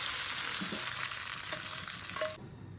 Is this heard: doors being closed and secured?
no